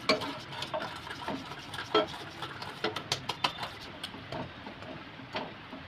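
A veg sandwich toast, buttered and flipped, cooking in a pan on a low gas flame: soft irregular patter and faint sizzling with occasional small ticks and scrapes, fairly quiet and close.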